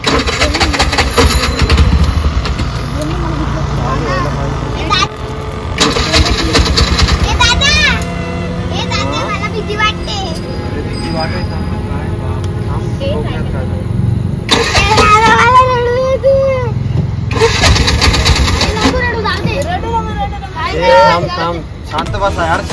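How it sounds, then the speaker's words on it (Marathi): An auto rickshaw engine cranks and catches in several bursts, then runs rough and idles close by, with children and adults talking over it much of the time. "रिक्षा चालू करून दे."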